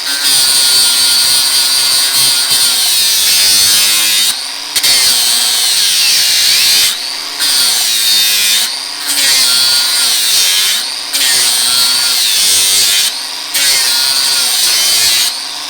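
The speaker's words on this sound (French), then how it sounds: "travailler avec la meuleuse pour faire ma chasse" An angle grinder works on Mustad horseshoes, a loud, harsh high-pitched grinding that runs in long bursts broken by several short pauses as the disc is lifted and reapplied.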